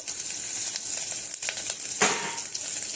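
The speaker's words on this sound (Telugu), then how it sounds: "ఇప్పటికే ఆవాలు కూడా చిట్టపట్లు ఆడుతున్నాయి" Dense, continuous crackling and sizzling of mustard seeds popping in hot oil, close and fairly loud, with a brief louder burst near the end.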